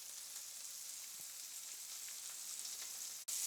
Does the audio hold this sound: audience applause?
no